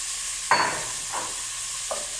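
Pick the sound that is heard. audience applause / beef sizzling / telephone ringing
beef sizzling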